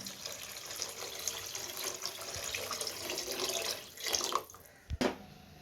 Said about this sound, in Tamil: இப்போ குழம்புக்கு தேவையான அளவு தண்ணி நம்ம இதில் சேர்த்துக்கலாம்